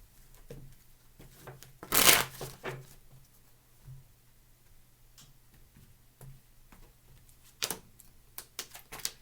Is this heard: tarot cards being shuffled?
yes